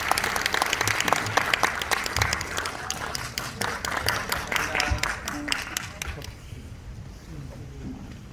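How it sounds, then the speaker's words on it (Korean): An audience in a Megabox cinema applauds director Makoto Shinkai at a stage greeting for the film Suzume, dense clapping that thins out and fades after about six seconds, with some voices mixed in. "선생님께 큰 박수 부탁드리고요."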